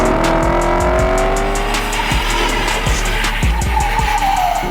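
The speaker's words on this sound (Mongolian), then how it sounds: "Энэ гайхалтай симфон шиг дуу гаргаад байгаа хөдөлгүүр бол Lexus-ийн домогт 5000 V8 хөдөлгүүр." A Lexus LC500's naturally aspirated 5.0-litre V8 runs loud and continuous for several seconds, the engine tone rising and falling, with a rapid ticking rhythm and occasional tyre squeal, no talk.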